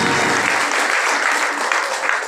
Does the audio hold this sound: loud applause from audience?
yes